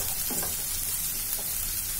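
Onions fry in hot oil in a pan for Bengali prawn malai curry, giving an even, continuous close sizzle with a couple of faint stirring knocks and no speech.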